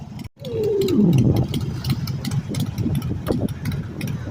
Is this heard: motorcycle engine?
yes